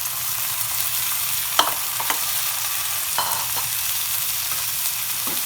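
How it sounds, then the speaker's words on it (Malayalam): Cooked chicken being stirred into potatoes in a pan for Kerala-style chicken mappas, with a steady low sizzle and a few scraping spoon strokes across the pan, close and moderately loud, no talking. "അതിനുവേണ്ടി ഞാൻ വെന്ത ചിക്കനൂടെ ഇതിലോട്ട് ഇട്ട് കൊടുക്കുകയാണ്."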